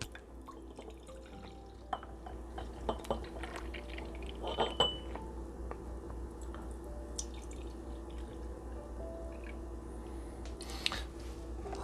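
Thick homemade French-style yogurt mixture poured into glass jars, giving soft intermittent drips and wet splats over a low steady background hum, with a few brief clinks of glass.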